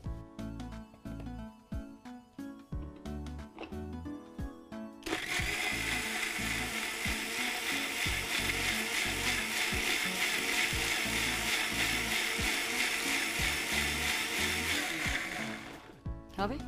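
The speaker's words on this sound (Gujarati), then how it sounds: "હવે આને બ્લેન્ડ કરી દે." A kitchen blender whirs loudly and steadily, blending fruit yogurt with dragon fruit slices; it starts abruptly after a few seconds of quieter background music and runs continuously to near the end.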